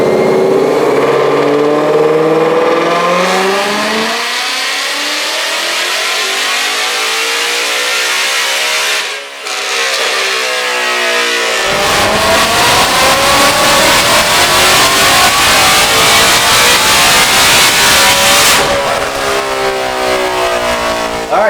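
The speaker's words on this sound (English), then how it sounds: "we're going to go ahead and let it cool down and do one more power pull and see what kind of power we can make" A 2020 Ford Mustang GT500 with long tube headers roars through a dyno power pull, its engine note climbing steadily in pitch, briefly breaking, then pushing on loud and close before easing back.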